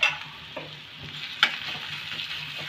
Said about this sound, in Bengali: আদা রসুনটা একটু ভেজে নেব